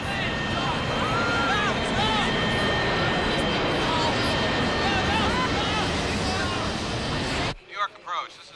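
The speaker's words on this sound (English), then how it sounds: "Oh, it's another plane!" A plane flies past close by, a loud sustained engine roar that fills most of the moment before cutting off abruptly, with faint wind noise and brief voices at the end.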